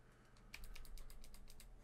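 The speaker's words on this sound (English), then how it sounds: "I'm going to press F1 on my keyboard, press backspace to go back to the main menu" A few computer keyboard keys pressed during RetroArch emulator setup, a soft run of about ten quick, close clicks, faint and alone over a low steady hum.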